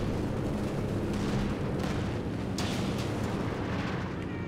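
Continuous rumbling battlefield din from Company of Heroes 2 during a 3v3 match on Red Ball Express, with distant artillery booms and gunfire layered into a dense, steady roar.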